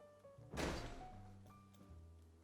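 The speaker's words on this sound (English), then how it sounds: "and a slamming door" A single heavy door thuds shut nearby in a home kitchen, a sharp broadband bang that decays quickly into a low room hum with faint tonal background.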